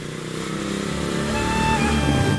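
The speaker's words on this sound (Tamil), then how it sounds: "பைக்ல யாரோ வந்திருக்காங்க." A motorcycle pulls up nearby, its steady engine drone building slightly in loudness as it arrives, with no talk over it.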